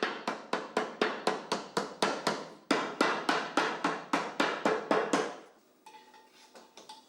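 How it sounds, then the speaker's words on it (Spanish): A rubber mallet taps aluminium-type flashing down onto roof tiles while mounting solar collectors: about fourteen light, evenly spaced knocks in a steady rhythm, close and clear, then a quieter stretch with faint thin ringing. "Adaptamos el babero a las tejas con la mano o golpeando suavemente con un martillo elástico."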